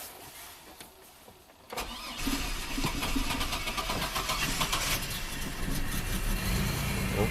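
A GMC Sonoma pickup cranks over and fires after a quiet moment, then settles into a steady, slightly uneven idle that runs on without throttle blips.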